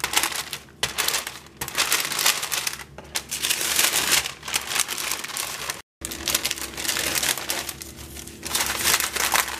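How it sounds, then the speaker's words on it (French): Tart dough is rolled out between two sheets of parchment paper, giving steady crinkling and crumpling paper noise with rhythmic pushes and a brief pause, close and fairly loud with no talking. "j'étale cette pâte entre 2 feuilles de papier sulfurisé"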